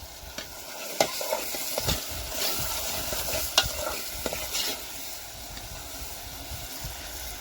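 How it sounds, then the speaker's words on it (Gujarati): Prawn masala curry is stirred in a pan, with a steady sizzling hiss and irregular scraping clatters from the spoon, close and continuous with no talk. "આને આપણે થોડુંક કરી દઈશું મિક્સ"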